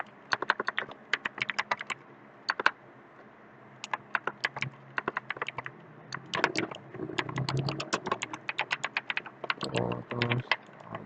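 Rapid bursts of keystrokes on a computer keyboard come in close, uneven runs with short pauses between them, steady clicking throughout the stretch with no one speaking.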